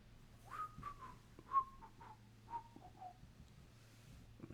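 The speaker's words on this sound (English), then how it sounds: "I'm going to try not to whistle on mic." A person whistles a short, wandering tune of clear, quick notes, moderately close and faint, over a steady low background hum.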